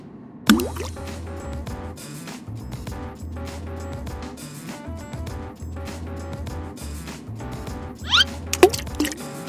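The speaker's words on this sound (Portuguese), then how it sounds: "seu celular escorregou da mão e foi parar no caldo quente" A mobile phone slips from a hand into hot soup, giving a loud plop and splash, then liquid sloshing and dripping, with another burst of splashes near the end.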